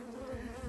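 Honeybees buzz on a hive frame in a steady, close droning hum, brief and continuous.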